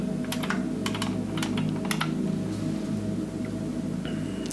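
Steady typing on a mechanical computer keyboard, with a run of crisp, clicky keystrokes in quick irregular bursts that sit close and clear over a low, constant background hum, then thin out toward the end.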